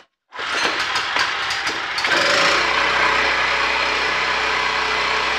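A 3,500-watt portable generator rattles to life and settles into a loud, steady mechanical drone that runs without a break.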